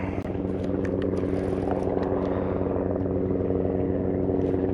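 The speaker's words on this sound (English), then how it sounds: "Man, these helicopters fly low around here." Low-flying helicopter over the Potomac River, a steady low rotor thrum and engine drone that stays constant throughout, moderately faint with some sharp ticks over it.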